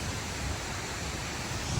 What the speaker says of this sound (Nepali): हामीले झर्नाको छिटाहरू यहाँसम्म आइरहेछ